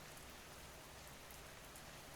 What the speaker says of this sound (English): Rain continues, steady, reassuring, timeless.